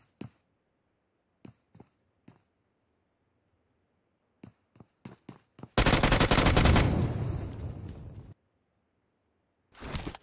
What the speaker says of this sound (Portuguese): Só atirar, pum, um tirinho vai explodir todas.